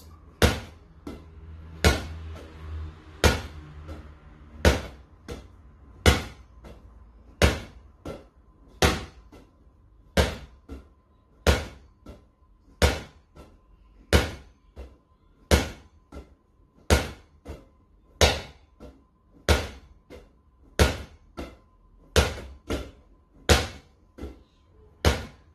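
A ball thrown hard so it strikes the floor, then a wall, and comes back, making sharp, evenly spaced thuds about every 1.3 seconds, close and clear over a quiet room, roughly twenty hits in a row.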